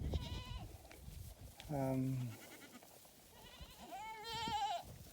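A herd of billy goats bleats on a farm, several loud wavering calls close by, one long bleat in the middle and more overlapping cries toward the end.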